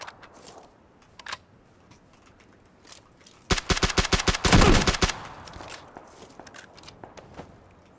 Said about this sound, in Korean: 막 그렇게 발소리 내면서 다니면 되나?